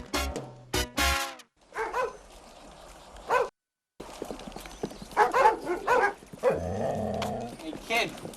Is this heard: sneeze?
no